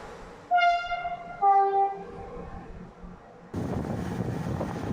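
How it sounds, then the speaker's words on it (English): A train passes along a railway beside holiday lodgings in Montenegro, its horn sounding two loud sustained blasts before the rushing rumble of the cars rolls close by, with some wind noise. "It's a train."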